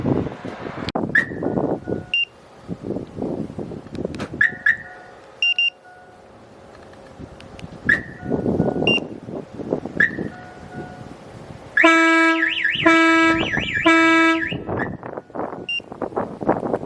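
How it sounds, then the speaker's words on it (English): A truck alarm chirps in short, repeated beeps, then a train horn wired to the alarm blares loudly in pulsing blasts for a couple of seconds. "He connected the train horn to the alarm, so when it goes off you can also hear the train horn."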